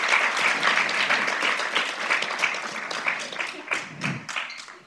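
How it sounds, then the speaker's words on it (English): An audience at an event about the fight to free Leonard Peltier bursts into warm, steady applause that fades gradually over a few seconds, with a brief voice surfacing near the end. "Please join me in giving a round of applause for Beverly Smith."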